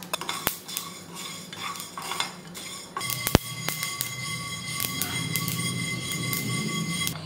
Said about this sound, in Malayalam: പാൻ ചൂടാവുമ്പോൾ 1 ടേബിൾ സ്പൂൺ കടുക് ഇട്ട് കൊടുക്കാം. കടുക് പൊട്ടി തുടങ്ങുമ്പോൾ നമുക്ക് 1 ടീസ്പൂൺ ഉലുവ ചേർക്കാം.